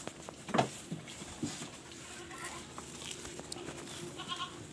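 Pet goats bleating in short, scattered calls, with a clear bleat near the start and fainter ones later, set against steady outdoor background noise.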